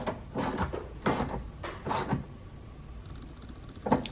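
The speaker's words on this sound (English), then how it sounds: "So we're tightening the 2 number 10 bolts," Bolts on the window glass clamp inside the door of a 2005-2011 Cadillac STS are tightened, giving a few short, close ratcheting and creaking mechanical bursts separated by pauses, with a final quick click at the end.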